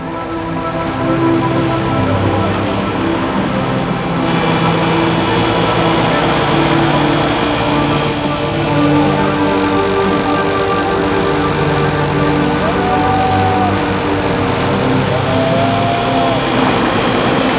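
A loud, steady motor drone runs throughout with a constant low rumble and hiss, like a boat engine cruising close by.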